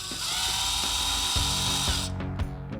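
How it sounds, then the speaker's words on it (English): A power tool whirs steadily, driving a 3/8 socket to remove a screw from a rear fender on a 2014-or-later Harley-Davidson Touring motorcycle, then stops with a couple of faint clicks. "With a 3/8 socket, go ahead and remove this screw up here."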